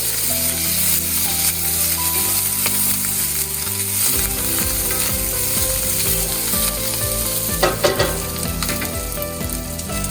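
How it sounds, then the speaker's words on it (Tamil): Sesame seeds, curry leaves and dried red chillies crackle and sizzle in hot oil for a capsicum chutney, a busy close spitting with bursts of popping, heard over background music. "எள்ளு வெடிக்க ஆரம்பித்ததும் கருவேப்பிலை, வரமிளகாய் போட்டு வதக்கவும்."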